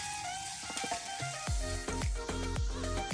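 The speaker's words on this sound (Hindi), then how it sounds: "चार दरमियाने साइज़ के आलू जो कि लंबाई में काट लेंगे और सबसे पहले इनको फ्राई कर लेंगे।" Four medium potatoes, cut lengthwise, fry in hot cooking oil. A close, steady sizzle and crackle sounds alone, with a few soft knocks.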